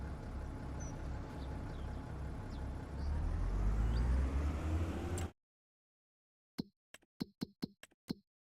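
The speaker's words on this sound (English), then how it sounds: "Also, I think these tractors are louder than my other ones." A tractor engine in the Farming Simulator 25 video game: a steady, loud low drone that swells slightly, then cuts off to silence, followed by a quick series of sharp knock-like clicks.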